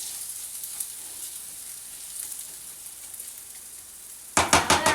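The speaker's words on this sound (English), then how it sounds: "we're going to go ahead and spread it around, and we're going to let it brown a little before we add anything else to it" Rice sizzling steadily in a pan as it browns for Mexican rice, a soft continuous hiss, then a few louder scraping stirs near the end.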